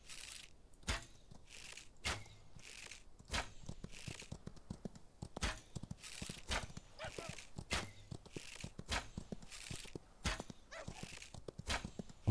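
A horse ridden during a hunt in the video game Outlaws clip-clops in a steady, rhythmic run of hooves, close and moderately loud throughout the clip.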